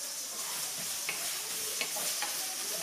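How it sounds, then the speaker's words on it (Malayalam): Onion, ginger and garlic sauté in hot oil with a soft, even sizzle, while a spoon stirs and scrapes the pan in a few distinct, close strokes; no talking. "ഇനി ഈ സവാളയും ഇഞ്ചിയും വെളുത്തുള്ളിയും എല്ലാം നന്നായിട്ടൊന്ന് വഴന്നു കിട്ടണം"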